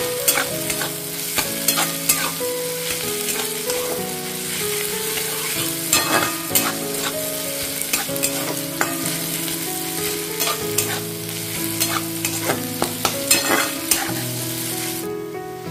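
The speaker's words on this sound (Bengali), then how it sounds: "এই পেঁয়াজটা আমি 1 মিনিটের মতো ফ্রাই করে নেব।" Onion frying in a pan for veg Manchurian, a loud continuous sizzle with frequent sharp scrapes and knocks of a stirring spoon against the metal, close up and with no talk.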